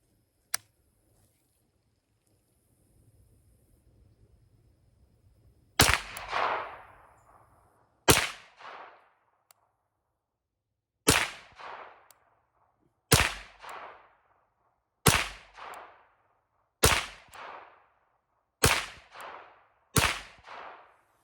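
A Ruger PC Carbine 9mm rifle fired outdoors: one faint early shot, then about nine loud, sharp reports spaced a couple of seconds apart, each with a short echoing tail.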